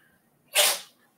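A single sharp, breathy sneeze from a cat, one quick hissing burst lasting under half a second against a quiet room, close by.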